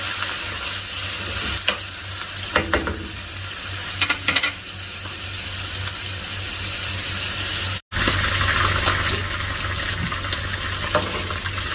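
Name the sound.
mutton browning and sizzling in a pan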